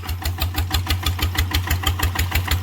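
A machine's engine runs close by in a loud, steady idle with a regular thumping pulse several times a second, and no voices over it.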